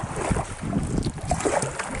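A gust of wind sweeps across open water on a canoe trip through the woods the day after a storm. It buffets the microphone with steady low rumbling roar and rustle for the whole stretch, and no one speaks.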